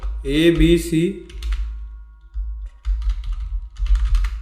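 Someone talks briefly before typing a business name on a computer keyboard, which comes through as scattered clusters of soft, quick key clicks with pauses between them.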